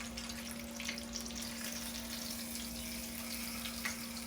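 Fish frying in hot oil in a pan gives a steady, even sizzle throughout, close and moderately loud, with a faint constant hum behind it and no voices.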